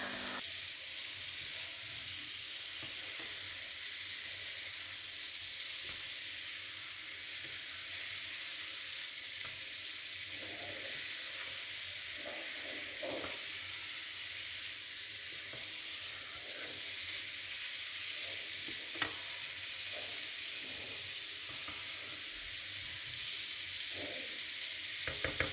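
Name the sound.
chicken frying with spices and oil in kadhai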